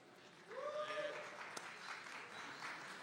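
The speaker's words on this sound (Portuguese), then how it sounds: "salva de palmas." Audience applause for a speaker at a Bitcoin talk, rising after a brief moment into a sustained spread of clapping at a moderate distance, with faint voices and a whistle-like tone mixed in.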